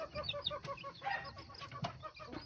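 Baby chicks peep in quick, repeated high chirps, close but faint, with occasional rustling and fluttering around them and a soft farmyard clucking in the background.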